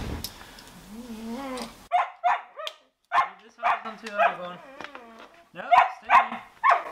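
Dogs bark in a home setting, a series of sharp, close barks and yips in irregular bursts, with a person talking to them before and between the barks.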